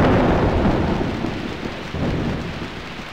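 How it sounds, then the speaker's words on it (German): A thunderstorm in the game Dreamweb rumbles as a dense, loud, continuous roar of rain with deep rolling thunder, steady throughout with no talking. "Es gewittert natürlich auch wieder schön."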